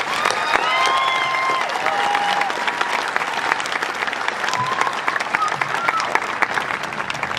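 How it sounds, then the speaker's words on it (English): A graduation audience breaks into sustained applause, a dense wash of many hands clapping at once with a few whistles and shouts rising through it, holding steady throughout. "Please give them a round of applause."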